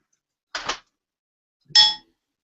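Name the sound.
chime ringing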